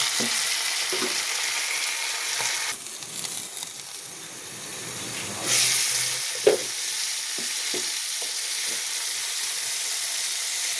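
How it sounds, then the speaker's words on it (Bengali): Vegetables for a paneer curry fry in a pan with steady broadband sizzling, a few stirring scrapes and a brief louder hiss midway, with no voices. "সবজিগুলো জাস্ট একটু নরম হওয়ার জন্য আমি মিশিয়ে দেবো"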